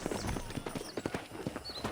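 Horse hooves clip-clop in a steady rhythmic gait in the video game Red Dead Redemption on PC, close and clear over a continuous background of game ambience.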